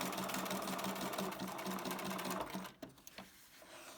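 A sewing machine stitches around the curved edge of a fabric bumbag piece, running in a fast, steady close whirr, then stopping abruptly near the end with a few quiet clicks.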